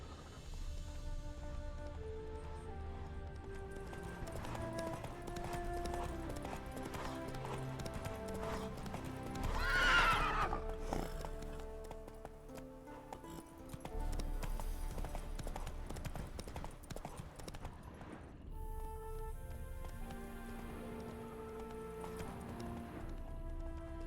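Roach, Geralt's horse in The Witcher 3, clip-clopping at a steady gallop with a brief whinny in the middle, set against a swelling orchestral score with no talk.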